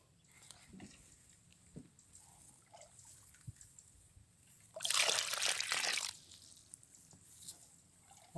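Running floodwater after heavy rain, a faint steady trickle and slosh with occasional drips, broken by a louder surge of rushing water near the middle before settling back to a quiet flow.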